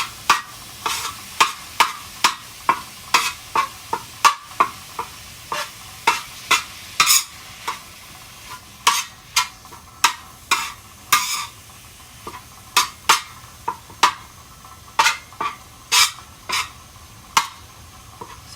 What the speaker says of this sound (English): I have this set to medium-high heat so the hamburger doesn't burn